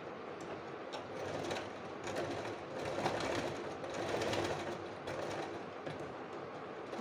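A sewing machine stitches a joined bias strip onto a blouse, giving a steady, close, rhythmic mechanical clatter that swells slightly and runs throughout with no talking.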